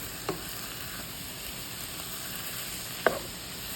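Beef and onions stir-fry in a hot pan with a steady, quiet sizzle, broken by two sharp scraping knocks of a utensil against the pan, one near the start and one later.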